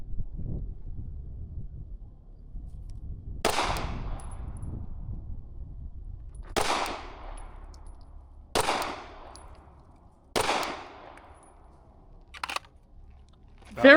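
Four pistol shots fired with an NY2 trigger on a range, each a sharp loud crack with a decaying tail, spaced a couple of seconds apart against faint wind and background rumble, with no talking.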